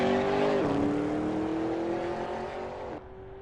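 A Porsche race car engine in the Assetto Corsa racing game drones loudly at high revs with a tonal whine, pitch dipping at a gear change and dropping again near the end, with no talk over it.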